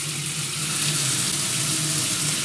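A leaking kitchen tap sprays a thin jet of water, a steady close hiss and spatter that holds constant throughout with no talking.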